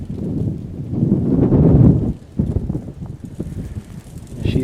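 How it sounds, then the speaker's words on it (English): A steady roar of wind through trees the day after a Texas snow storm, rising and falling in gusts with rustling close to the microphone and some buffeting. "Listen to all these trees making noise in the wind."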